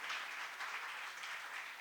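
Audience applause at a Jain temple birthday celebration, a steady wash of many hands clapping together, moderately distant and continuous without any talk over it.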